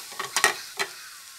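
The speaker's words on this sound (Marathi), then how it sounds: "आता यात मी उकडलेला बटाटा घालून घेते" Boiled potato stirred into a hot pan with ginger-garlic-chilli paste: a few quick scraping stir strokes over a soft sizzle, close and brief, with no voices.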